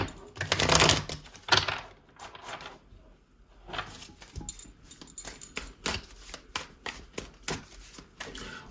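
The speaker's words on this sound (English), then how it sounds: "One more shuffle and the messages for my twins out there." Tarot cards are shuffled up close in quick, crisp bursts of riffling and slapping, with short pauses between the flurries.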